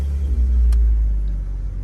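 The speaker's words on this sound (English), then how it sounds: "now we can go ahead and start the car up, so we'll just turn the key" A BMW 325 E46 with the M54 engine runs with a steady, deep low rumble throughout, with one brief sharp mechanical click partway in and no voices.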